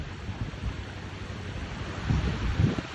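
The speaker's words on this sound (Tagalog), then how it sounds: "Lakas ng agos sa gitna." Strong floodwater current rushes and churns in a continuous noisy wash with wind buffeting the microphone, swelling louder toward the end.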